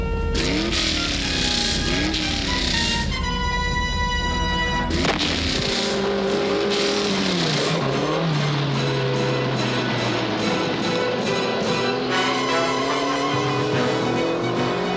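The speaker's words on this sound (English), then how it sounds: "start your engines!" Loud race car engines start up and rev repeatedly, rising and falling pitches layered over a constant roar, with no pauses.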